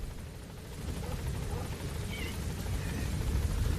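A support helicopter arrives in Metal Gear Solid V, its rotor thumping as a low steady chop under windy noise, fairly faint and growing slightly louder, with no voices.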